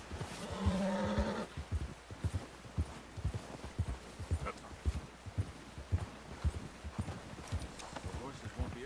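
Horse hooves clip-clop in Red Dead Redemption 2 during a hunting outing, a steady rhythmic trot lasting several seconds after a brief voice at the start.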